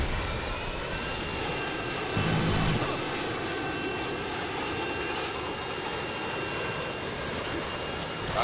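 A steady, airy whine of a drone flying overhead in Call of Duty MW2 fills the scene, constant and moderately loud with a brief swell near the start, no speech.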